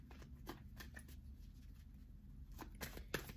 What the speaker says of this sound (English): This is a lot of shuffling now.